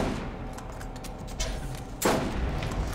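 Gatling turret fire in the Borderlands video game: a steady, moderately loud rattle of distant gunfire with a sharper, louder burst near the end.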